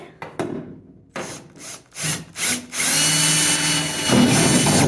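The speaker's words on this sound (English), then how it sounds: "let's try that again with a new drill bit" A power drill with a new bit starts in several short bursts, then runs in a steady, loud grinding whine close by, drilling sheet metal on a 1969 Volkswagen bay window bus.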